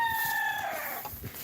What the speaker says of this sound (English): And here are some of my chickens here.